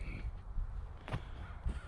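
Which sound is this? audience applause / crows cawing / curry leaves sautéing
crows cawing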